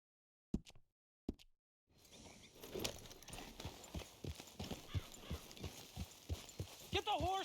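Horse hooves clip-clopping in the video game Red Dead Redemption 2, a few isolated knocks at first and then a steady run of hoofbeats on hard ground, close but fairly quiet, with a short whinny-like sound at the end.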